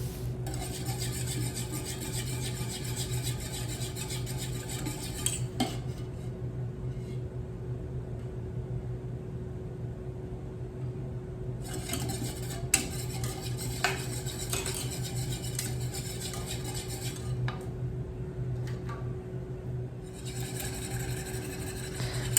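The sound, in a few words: whisking chocolate mousse mixture in a double boiler bowl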